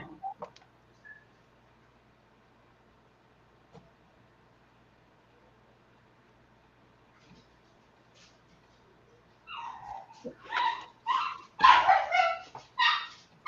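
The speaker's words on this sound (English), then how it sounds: "Those are some very excited dogs." Excited dogs bark and yip in a rapid cluster of loud bursts near the end, after a long, mostly quiet stretch with faint background noise.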